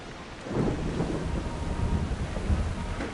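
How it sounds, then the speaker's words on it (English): A thunderstorm in the video game Assassin's Creed Odyssey, with steady heavy rain and a deep rolling thunder rumble that swells and fades throughout. "Look at the rain and the water and everything."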